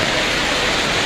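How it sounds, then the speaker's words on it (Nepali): Heavy rain pours down in a dense, roaring wash as floodwater rushes across a hill road in Darjeeling, Kurseong, during a hail storm, a loud, unbroken torrent with no voices. "यति डरलाग्दो पानी परिरहेको मतलब बगेर आइरहेको छ"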